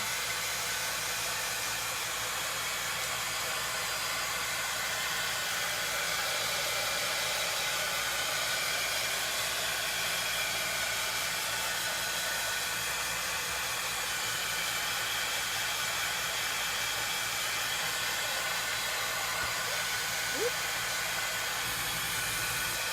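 A hair dryer blows steadily on a Mod Podge-coated craft project, giving a continuous close whooshing roar at even loudness with no talk.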